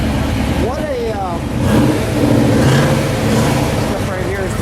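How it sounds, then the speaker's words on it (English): Mercury Cougar cars roll past at a car show, their engines rumbling and revving close by while people talk loudly over the passing traffic. "step right here as the Cougars roll by"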